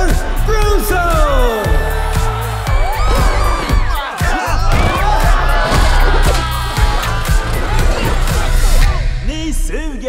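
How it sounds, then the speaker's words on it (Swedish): An animated crowd cheers and whoops loudly for Bruce, with shouts and yells layered over music and voices that keep talking throughout. "En stor applåd för Bruce!"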